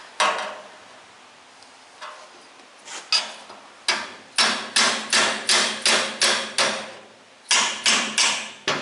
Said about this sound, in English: Hammer's a great debender as well.